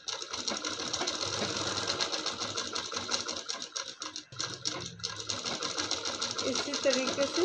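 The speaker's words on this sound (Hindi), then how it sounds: "पूरा किनारे से सिलाई लगाएंगे इस तरीके से" Sewing machine running steadily as it stitches along a fabric edge while a blouse neck is sewn, a continuous close mechanical whir with a brief pause midway, with a voice talking over it.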